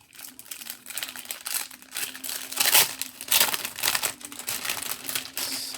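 A sheet of round stickers is handled with steady, close crinkling and crumpling of paper and plastic, continuous and moderately loud across the whole stretch with no talking.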